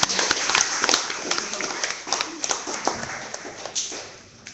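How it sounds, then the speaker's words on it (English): A small audience gives a round of applause for Angel, a brisk burst of many hands clapping close by that gradually thins and fades out. "Thank you, Angel. Round of applause."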